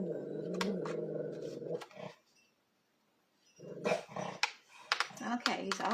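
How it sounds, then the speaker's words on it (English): A dog growls in a long, low rumble, then goes quiet for a moment before breaking into a burst of loud, sharp barks and further growling, heard close up. "I think we're going to hear some barking"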